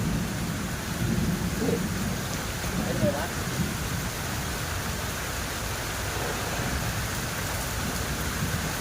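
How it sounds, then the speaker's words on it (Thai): Heavy rain pours down with rumbling thunder outdoors during a flood-season fishing trip, a dense continuous downpour, with someone speaking briefly under it. "ไปหลบฝนก่อน แค่นี้ก่อนครับ ฟ้าแรงมาก ฝนมาแรงด้วย"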